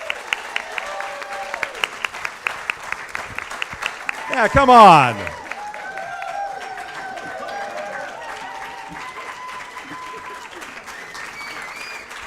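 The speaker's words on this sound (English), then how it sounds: "let's have a big round of applause for the cast of the college tour" A theatre crowd applauds and cheers for the cast at a college tour premiere, with loud sharp claps at first, a burst of whooping, then steady mid-level applause, with voices calling out over it.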